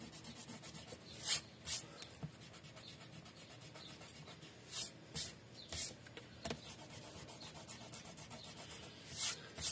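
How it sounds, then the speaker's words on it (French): An eraser rubs on paper while a scrapbook album is being made, in short, quiet scrubbing bursts that come in pairs and small clusters against a faint room hush. "Donc, je vais juste gommer"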